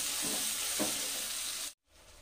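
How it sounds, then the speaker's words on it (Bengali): Black cumin seeds and a ready-made spice paste hit hot oil in a pan with a loud, close, continuous sizzle that cuts off abruptly near the end, leaving quiet. "কালো জিরাটা 2-1 সেকেন্ড ভেজে নেব।"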